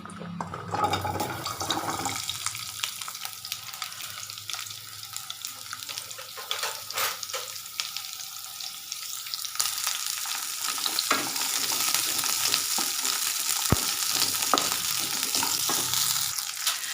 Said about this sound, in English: let's go ahead and add the onion, garlic and ginger first, and fry it nicely